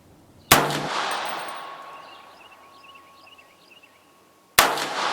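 Two sharp, loud gunshots from an AR-15 in 300 Blackout firing PPU 150-grain reloads, spaced about four seconds apart, each followed by a ringing decay.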